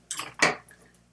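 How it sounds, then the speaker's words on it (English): Art spatulas are wiped clean in two quick, close swipes, each a brief dry scraping rasp. "So I'm just wiping my spatulas"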